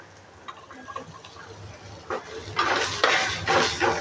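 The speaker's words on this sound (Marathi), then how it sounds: "ह्याचा पण थोडा कच्चा वास जाईपर्यंत आपल्याला परतून घ्यायचा आहे" Onion, green chili and ginger being sautéed in a pan for a Marathi black pea usal: light clinks and scrapes at first, then louder bursts of sizzling and stirring toward the end.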